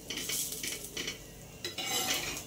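An egg roll roasting in oil on a flat pan: a low sizzle with repeated metallic scrapes and clinks of a spatula against the pan, close and fairly quiet, with no voices.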